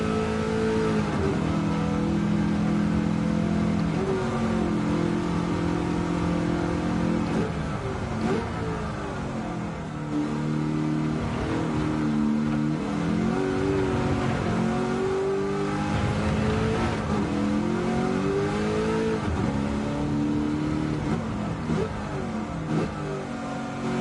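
Ford Mustang touring race car in a TCM livery, driven in a racing video game, revving hard with wheel spin as the engine note rises and falls through gear changes, loud and continuous.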